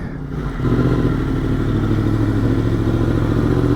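A Yamaha FZ-10 motorcycle pulls away on a commute, its engine swelling into a loud, steady, close rumble that fills the whole stretch.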